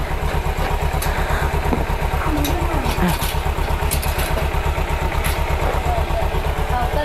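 An Aprilia RS 457 sport motorcycle engine idles nearby with a steady, fast pulsing throb, while someone speaks intermittently over it.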